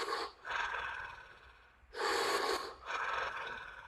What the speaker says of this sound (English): Last 10 breaths of our third round.